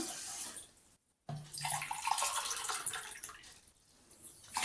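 Water poured from a tumbler into a cooking pot while making Venn Pongal, a steady splashing rush broken by a brief pause, then continuing close and moderately loud.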